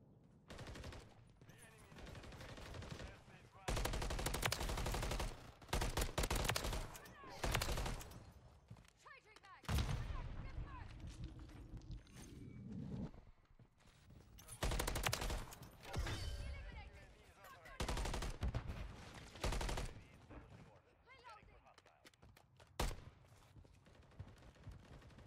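Bursts of rapid automatic gunfire from Call of Duty: Modern Warfare 3 multiplayer, loud and close, with quieter stretches between volleys and a voice speaking briefly over the shooting.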